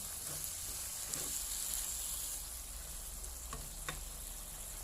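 Asparagus and pork stir-frying in a pan: a steady bright sizzle of hot oil hisses throughout, with a few soft scrapes and clicks of stirring breaking through, close and continuous.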